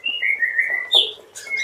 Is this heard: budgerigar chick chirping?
yes